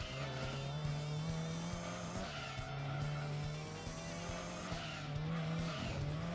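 A car drifts in Gran Turismo 7, tires squealing in long sustained screeches over a droning engine, with the squeal dipping briefly and returning in repeated slides.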